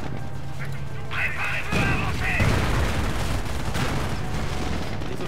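Artillery shells fire in the World War II strategy game Company of Heroes: Opposing Fronts, Market-Garden campaign. Several heavy booming blasts land in the middle of the clip over a continuous rumble of battlefield noise.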